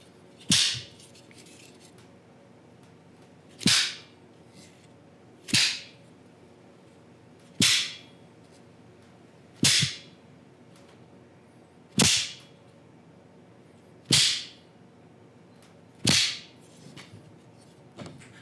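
A bullwhip crack imitated by slapping paint sticks together: eight sharp, loud snaps at a steady, unhurried pace, roughly two seconds apart, each ringing off briefly against a quiet background.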